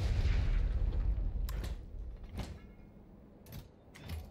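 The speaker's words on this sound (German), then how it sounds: "die sollen hier noch ein bisschen ihre Munition verschießen" Gun turrets in the video game Factorio fire off ammunition: a handful of sharp, separate shots cracking out at irregular intervals over a low, rumbling game backdrop.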